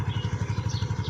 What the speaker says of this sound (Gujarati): ચાલુ હો ગઈ બાઈક